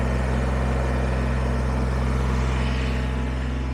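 A Kubota BX23S compact tractor with backhoe holds a steady, high-RPM engine drone while in neutral, a continuous loud hum with no pauses and no talking.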